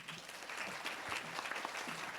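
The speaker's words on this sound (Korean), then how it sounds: "박수로 좀 맞아주시기 바랍니다." Audience applauding at a scholarship award ceremony for architectural safety students, steady clapping from a crowd that holds even throughout without pause, with a faint voice in the background.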